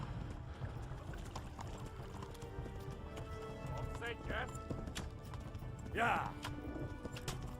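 Horse hooves clip-clop at a gallop in the medieval video game Kingdom Come: Deliverance, a steady rhythmic patter under game ambience, with a voice calling out briefly over it.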